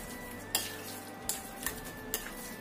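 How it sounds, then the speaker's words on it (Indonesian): Spoon stirring a brown sugar mixture in a pot for a cassava and coconut milk dessert, with a few sharp scraping clinks against the pot over a low background hum, quiet and close. "Ini kita aduk sampai tercampur rata."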